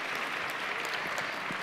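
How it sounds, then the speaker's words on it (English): An audience applauds after a panel discussion on artificial intelligence, with dense steady clapping from a sizable crowd filling the room, sustained and evenly loud with no voices on top. "Let's give them another round of applause"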